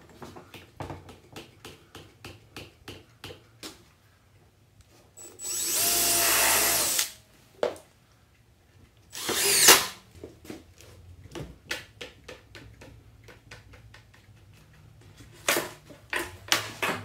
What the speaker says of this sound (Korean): 이번에도 벨트 클림프를 물리고 나사못으로 한 번 더 고정을 합니다